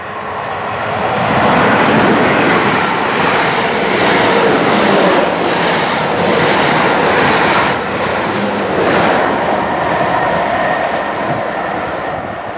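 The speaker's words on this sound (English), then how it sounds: "being at Hinton Admiral Railway Station, it's very peaceful" Rumbling passage of a train at Hinton Admiral railway station on the South Western Main Line, a steady loud roar of wheels and rail noise filling the whole stretch with rhythmic clatter, no voices.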